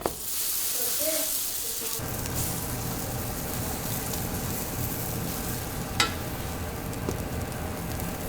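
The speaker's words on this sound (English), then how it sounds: "we're gonna actually toast this on the flat top" Burger buns spread with vegan mayonnaise toast face down on a flat top griddle, a dense steady sizzle that starts after a brief quieter moment and continues evenly with a faint click partway.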